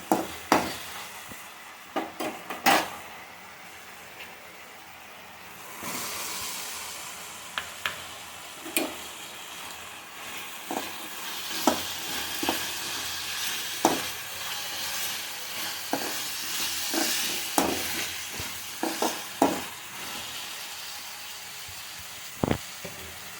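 Onion pieces and moong dal fry in a pan while being stirred, a steady sizzle underlying repeated scraping clicks of the spoon against the pan, close and moderately loud, with no talking.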